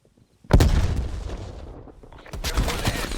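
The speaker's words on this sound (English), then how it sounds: "Sending frag grenade." After a brief hush, a frag grenade blast and bursts of gunfire erupt in a video game, a loud sudden boom that decays into rattling shots, then swells again near the end.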